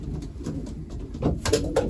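Pigeons coo in a loft as the flock's low, soft cooing murmurs steadily, with a few louder calls rising near the end amid light rustling.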